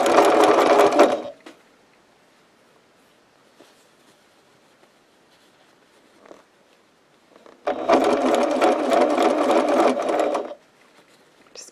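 A sewing machine stitches a paper-pieced log cabin quilt block in two short bursts, a fast rattling whir at the start and again later, separated by a long quiet pause with soft handling sounds.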